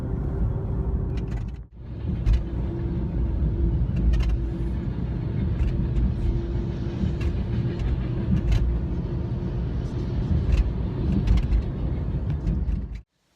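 Continuous low rumble of a car driving, with engine drone and road noise steady throughout, briefly dipping near the start and cutting off at the end.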